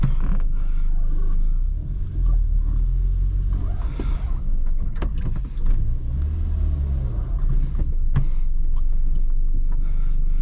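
A warmed-up 1988 Renault Super 5 engine rumbles steadily while driving, loud and close, with occasional creaks and knocks from inside the cabin.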